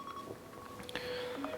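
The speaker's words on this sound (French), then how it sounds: "j'ai une petite alarme à 15h55 tous les jours." A phone alarm goes off with a few faint electronic tones over a low background hum.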